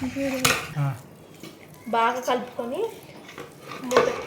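Ragi rotti dough being mixed in a bowl with finely chopped onions, green chillies and curry leaves: close scraping and clinking of utensil and dish in short bursts, with a voice briefly audible in between.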